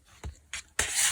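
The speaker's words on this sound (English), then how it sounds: "I just trim it with a knife" Three short, close scraping strokes of a knife trimming the white edge of a paper specimen card, the last one louder and longer.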